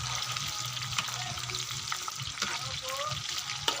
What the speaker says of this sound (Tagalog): unahin na natin ang onion. Caramelize lang natin ng konti hanggang sa lumabas ang kanyang aroma